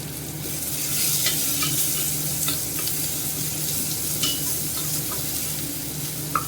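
Onion, ginger and garlic sauté in spiced oil in a pan over a lowered flame, a steady sizzle with a few light scrapes of a spoon stirring, close and continuous with no voices.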